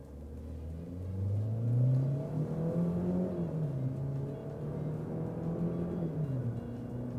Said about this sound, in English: That was pedal to the floor and we just got to 45.